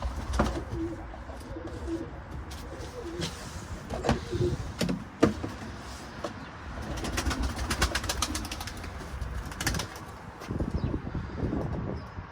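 Pet pigeons coo and flutter close by in a loft, with repeated sharp wing claps and rustling bursts throughout, and softer cooing between them.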